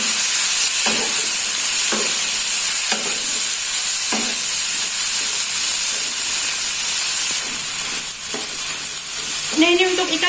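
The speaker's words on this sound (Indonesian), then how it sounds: "Nah, ini ditumis sampai harum ya." Spices stir-fry in a hot pan, then boiled young jackfruit is tipped in, giving a continuous loud sizzle and hiss broken by repeated scraping strokes of a spatula, with a brief clatter near the end.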